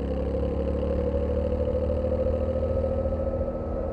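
A 2025 Yamaha Tenere motorcycle engine hums steadily near the microphone, its revs sagging gently as the throttle is eased off.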